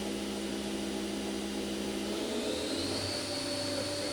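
A Fadal CNC vertical machining center's 7,500 RPM spindle runs at steady speed, a sustained whine over a low machine hum that shifts pitch late on as the speed changes, heard alone and fairly close.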